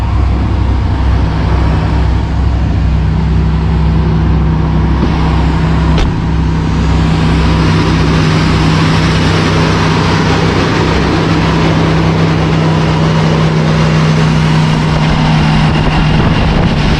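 An old vehicle nicknamed Rusty idling with its engine running, a loud, steady low rumble with a constant hum and no pauses, close by.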